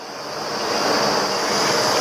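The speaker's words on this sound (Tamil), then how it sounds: "நம்ம பாலும் தண்ணியும் கலந்து வச்சோம் இல்லையா, நல்லா கொதிக்குது" A pot of milk mixed with water boils vigorously for paal kozhukattai, a steady rushing bubble and hiss that swells slightly louder, close by with no talking.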